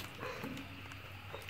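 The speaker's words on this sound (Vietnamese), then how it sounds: "Tự nhiên có mấy con chó ở đâu nó tới nó sủa sùm luôn" Several dogs bark at night near an abandoned house, the barks coming in short, muffled bursts under a steady background hum and light rain.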